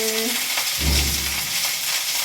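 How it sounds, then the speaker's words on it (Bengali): Okra sizzles and crackles frying in a hot pan, a steady frying hiss with a brief low thump partway through. "আর এই দেখছি ঢ্যাঁড়সটা ভাজা হচ্ছে"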